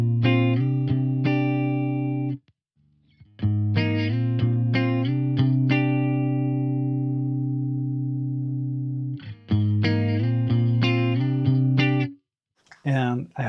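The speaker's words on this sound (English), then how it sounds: "If I would just take off all the compression, squish as included, then my guitar sounds like this." Electric guitar played with no compression, sustained chords and picked notes close and full, with a couple of brief gaps between phrases and no voice over it.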